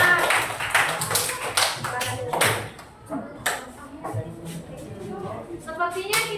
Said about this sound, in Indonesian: kita tepuk tangan dulu untuk kelompok 4